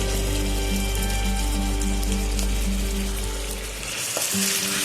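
Chicken pieces tossed with fried ginger-garlic paste, salt and turmeric in a pan on an induction cooktop, giving a loud continuous sizzle with spoon scraping and mixing strokes, settling briefly near the end.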